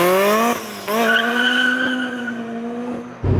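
A supercharged 2008 Honda S2000 CR accelerates hard, its engine note climbing steadily through the revs with a brief dip at a gear change, loud and close throughout.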